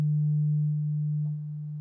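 A small homemade subwoofer pumps out a loud, steady low bass tone that holds almost unchanged for about two seconds, with no voices over it.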